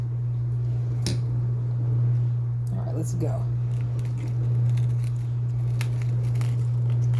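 Scissors snip citrus plant stems during a harvest, a couple of short, close crisp cuts under a steady low hum, while a person talks briefly.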